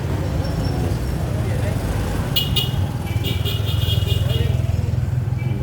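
Busy street traffic outside a Mercury Drug store, a constant rumble of passing cars and motorbikes with a couple of short horn toots partway through, loud and close, with people talking over it.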